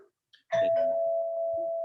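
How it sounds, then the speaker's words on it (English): An electronic doorbell chime rings out, a sharp onset settling into a steady sustained tone that holds clearly for over a second. "that's my doorbell"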